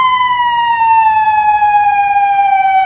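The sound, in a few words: police siren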